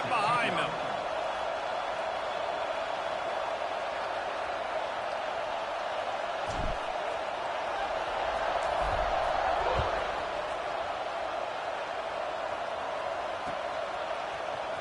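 A college football stadium crowd at an NCAA game's kickoff makes a steady, distant roar, mostly beneath a commentator's ongoing voice, with a few faint thuds and swells along the way.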